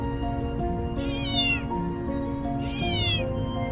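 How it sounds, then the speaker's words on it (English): A small gray-and-white kitten trapped under a car wheel meows in distress, two loud, high, rising-then-falling cries about a second and a half apart over a steady low background hum. "A kitten got trapped under the wheel and was meowing in terror."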